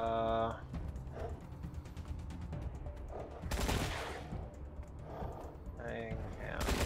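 Gunfire in the Wasteland 3 video game, quick bursts of rattling shots in a couple of clusters beneath game music and a speaking voice, moderately loud.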